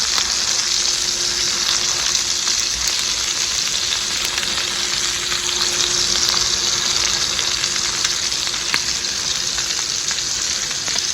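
Lamb chops sizzle steadily on a griddle, a loud, even hiss of frying fat that runs unbroken throughout with faint crackles and no voices.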